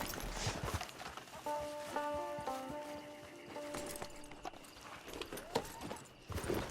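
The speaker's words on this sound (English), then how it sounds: "It's your horse." Horse hooves clip-clop in a steady walking rhythm in Red Dead Redemption Online, moderately close and fairly quiet, with a tonal game chime sounding faintly over the steps.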